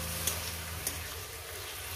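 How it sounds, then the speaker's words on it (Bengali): Flat beans (shim) fry in a pan with a soft, steady sizzle and hiss at low volume, broken by a couple of faint ticks. "শিমটাকে দিয়ে আমি 4-5 মিনিট আমি ভেজে নেব"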